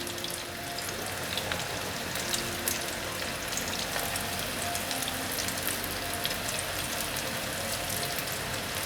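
Shiitake and wood ear mushroom patties fry in a shallow layer of oil, giving off a steady, dense sizzle with fine crackling pops that stays even and unbroken throughout.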